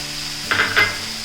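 Green chilies tossed into tomatoes frying in a pan for a mushroom roast, a quiet sizzle broken by two quick stirring scrapes, with no voices.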